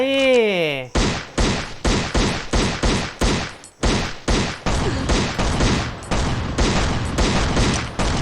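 Gunfire in the Last Island of Survival video game, fired as rapid loud bursts of repeated shots after a brief synthetic tone, with a voice talking over the shooting.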